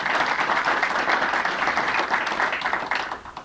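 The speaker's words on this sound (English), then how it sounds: "if you please give them a round of applause." Audience clapping at a conference presentation, a steady wash of many hands applauding for a few seconds before tapering off near the end.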